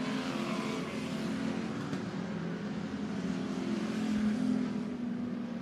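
Dirt track race cars roar around Bakersfield Speedway, a sustained loud engine drone heard from a distance that swells slightly as the field passes.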